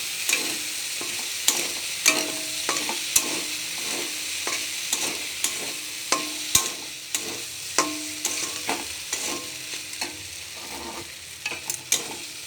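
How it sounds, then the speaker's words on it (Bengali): Pasta cooks with tomato sauce in a pan under a constant soft sizzle, while a utensil stirs and scrapes it with irregular clinks and taps close by. "আর দিয়ে দেবো টমেটো সস ভালো করে মিশিয়ে রান্না করে নেবো"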